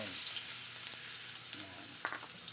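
Garlic and onion sauté together in hot oil, giving a steady, close, moderately loud sizzle with a few faint clinks of a utensil and no voices.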